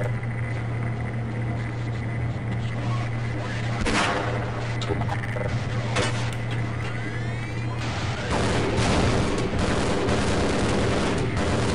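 Sustained gunfire in the video game Half-Life, with repeated sharp shots and heavier blasts over a loud, dense rumbling background that persists for the whole stretch.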